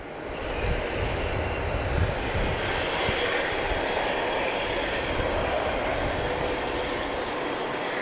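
A large American Airlines airliner taxiing at Logan Airport at night, its jet engines a steady, loud broadband roar that stays constant throughout.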